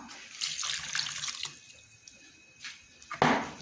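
Water poured into a glass for homemade lemon juice, heard as a faint splashing trickle with brief louder gushes near the end, no talking.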